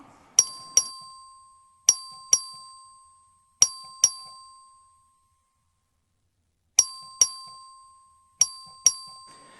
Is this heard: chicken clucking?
no